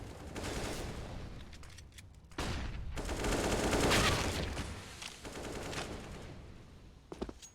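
Rapid bursts of automatic rifle fire and single shots crackle through a Counter-Strike match on the Train map, loud overlapping volleys broken by short pauses, with a few sharp isolated cracks near the end.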